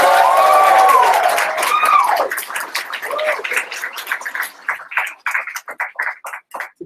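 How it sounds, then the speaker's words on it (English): A crowd of students at a 24-hour animation contest theme announcement cheers and claps loudly, with whoops and shouted voices rising over a sustained roar that breaks into scattered, fading claps near the end. "That deserves a cheer. Come on."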